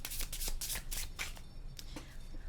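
Tarot cards being shuffled by hand, a close, steady riffling and slapping run of card noise lasting a couple of seconds, fairly quiet and with no talking over it.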